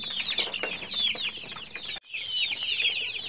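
Chickens on a poultry farm cluck and chatter in a dense, steady flock, with the noise continuing almost without pause and one brief gap partway through.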